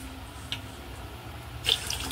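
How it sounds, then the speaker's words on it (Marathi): Water runs steadily into a vessel of rice, a soft continuous pour with a brief splashy surge near the end; no voices. "आता आपण याच्यात भातामध्ये पाणी घालूया"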